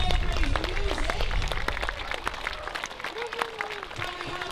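An outdoor crowd at a medieval festival at a priory applauds the musicians. Dense, steady clapping rolls through the whole stretch, with some cheering voices and calls rising above it.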